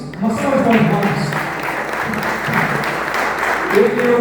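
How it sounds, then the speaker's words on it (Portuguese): An audience applauds Marcos, clapping steadily and warmly from start to finish, with voices talking over the sound. "Uma salva de palmas, Marcos."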